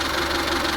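A 2000 Swedish-market Kia Pride, a relative of the Ford Festiva and Mazda 121, idles with its engine running steadily. It sits close and moderately loud for a short stretch, with no speech.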